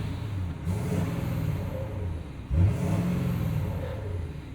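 A 2016 Ford F-350 Lariat Super Duty with the 6.7 Powerstroke diesel revs in two steady pulls, a deep close rumble with a brief surge between them.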